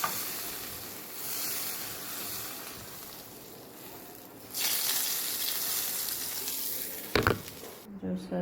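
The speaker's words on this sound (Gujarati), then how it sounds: "ઉપરથી વઘાર એડ કરીશું." Hot tempering poured over dhokla sets off a broad, hissing sizzle that swells suddenly and keeps going, with a short sharp clatter near the end.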